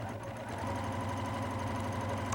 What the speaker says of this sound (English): you basically just sew with the batting edges on either side of the guide